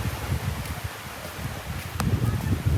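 Northwest wind blows across Boracay beach, a continuous low rumble and rustle buffeting the microphone, growing stronger near the end.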